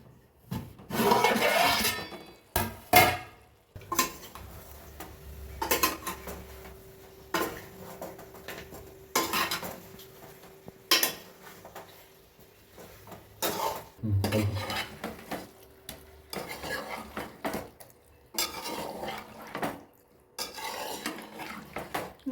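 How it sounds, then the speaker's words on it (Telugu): A spoon stirring chicken fry in a pan on medium flame: repeated close scraping and clinking of utensil against the pan in irregular strokes, with a faint sizzle of oil underneath. "మధ్య మధ్యలో ఇలా కలుపుకోవాలి"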